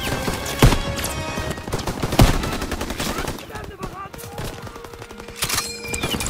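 Gunfire in the Call of Duty WWII video game: sharp single shots and rattling machine-gun bursts overlapping in a busy firefight, with some voices in the mix.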